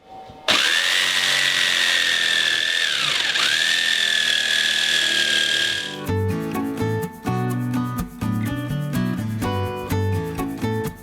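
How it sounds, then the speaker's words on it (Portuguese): A jigsaw cuts through wood with a loud, steady buzzing whine for several seconds, its pitch dipping briefly mid-cut, then stops and gives way to background music. "Nós vamos fazer um corte com a tico-tico."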